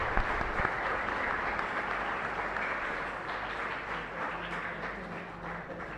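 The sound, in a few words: congregation applause in a chapel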